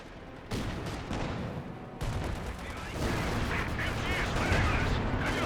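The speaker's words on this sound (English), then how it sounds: "Light howitzer is ready for another salvo." Light howitzer salvo in Company of Heroes 2, booming artillery blasts and scattered gunfire rolling continuously through a dense battle din, growing busier and louder toward the end.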